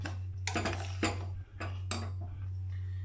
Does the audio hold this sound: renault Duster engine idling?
no